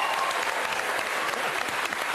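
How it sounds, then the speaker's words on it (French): Studio audience on a French TV talk show breaking into loud, close, continuous applause, dense clapping throughout with no voices on top. "vous pouvez quand même applaudir Marc-Antoine Lebret"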